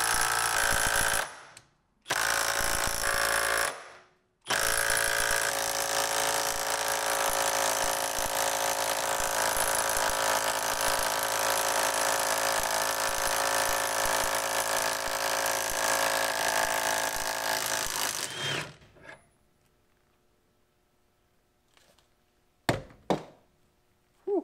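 A Milwaukee impact wrench hammers a bolt in a loud, continuous rattling burst lasting over ten seconds, broken by two brief pauses at the start, then silence with a few short knocks at the end.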